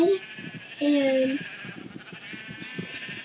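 Video game sheep let out a couple of short bleats near the start, then a pulsing game soundtrack with soft rhythmic thumps carries on underneath.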